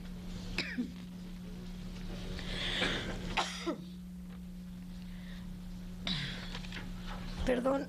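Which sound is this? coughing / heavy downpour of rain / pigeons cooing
coughing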